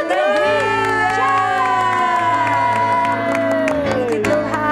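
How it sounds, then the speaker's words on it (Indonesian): Cheering and a few claps rise from the crowd at an Indonesian children's church service. The loud, steady crowd noise blends with sustained musical tones throughout. "Kita semua akan tepuk tangan bagi semua yang sudah datang mengikuti ibadah anak"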